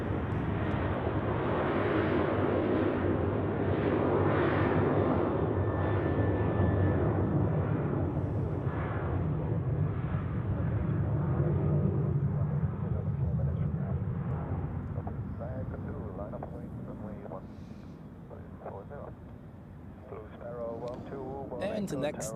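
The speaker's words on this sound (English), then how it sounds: "KLM departing." A KLM airliner departing Zurich Airport on a day of crosswinds, its loud broad engine roar building then slowly easing off into the distance over the final seconds, with wind noise and a voice talking at times.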